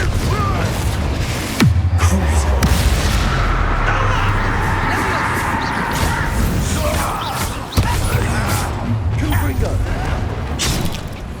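Loud booming explosions from the Confringo fire spell in Hogwarts Legacy crack out twice, each sharp onset followed by a dense, roaring rumble. Game battle noise and voices run under the blasts.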